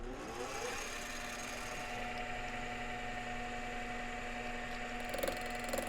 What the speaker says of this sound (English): I'm going to go ahead and set this lathe up to run at about 1250 RPM